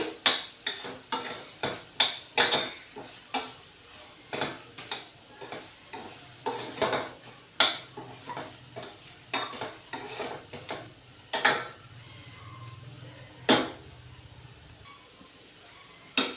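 A spoon scrapes and knocks against a metal pan while boiled raw banana pieces are stirred into a curry. The strikes come close and irregular, with a faint sizzle beneath, and they grow sparse toward the end.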